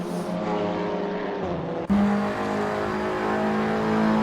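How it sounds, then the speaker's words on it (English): Race car engine in a TCR Europe sim racing game at the Red Bull Ring, a steady loud drone with a sharp gear shift, then renewed high revving as the car pulls away. "Throws the car into that first turn, and off we go for a flying lap around this Red Bull Ring"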